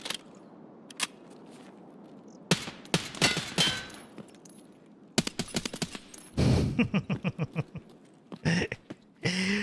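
Full-auto gunfire in Escape from Tarkov: sharp, scattered shots and short bursts, then a rapid string of evenly spaced rounds emptying a magazine, with quiet gaps between volleys.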